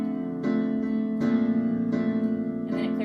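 Piano chords played with a late sustain pedal lift, so the notes blur together into a muddy wash before the next chord is struck; four or five sustained chord attacks ring out close and fairly loud, with no talking.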